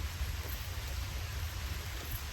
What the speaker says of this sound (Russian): Дождь пошел.